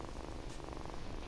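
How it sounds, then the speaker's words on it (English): A cat purring up close, a soft continuous rumbling purr over a brief moment with no other sounds. "I'm gonna have to put a purring warning"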